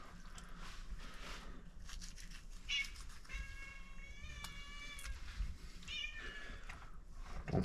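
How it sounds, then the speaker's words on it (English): A hungry cat meows insistently in a kitchen while a turkey is prepped, giving a few drawn-out, close meows over faint handling noises and room hum. "Don't mind the cat."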